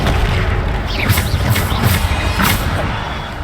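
Bombarda spell explosions in the video game Hogwarts Legacy: a series of booming blasts and crackling impacts in quick succession over a continuous rumbling battle din, loud and close.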